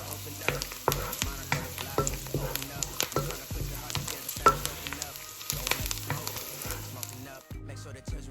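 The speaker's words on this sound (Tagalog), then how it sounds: "Mainit na yung mantika, pwede na natin ilagay yung onions at ang garlic." Onions and garlic are sautéed in hot oil in a pan, with a dense, crackling sizzle and the scrape of stirring throughout. It sounds close and fairly loud, with no talking over it.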